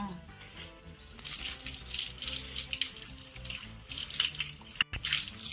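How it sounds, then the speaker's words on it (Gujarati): Water splashes and runs steadily while a buffalo is washed with a bucket at a cattle shed, continuous and fairly close, with brief louder pours and a short drop near the end. "આ નાખ્યું મારી ભગરીના પાણી મમ્મી ધોવા હાટું થઈને."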